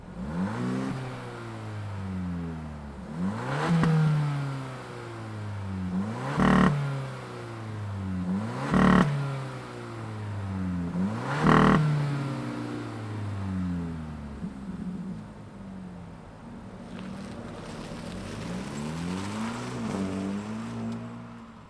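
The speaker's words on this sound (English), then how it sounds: "let's fire this up and hear what kind of noise comes out the exhaust" A 2024 Hyundai Elantra N-Line starts up and its exhaust is revved several times, each sharp blip rising and falling close by, followed by a longer, steadier rev.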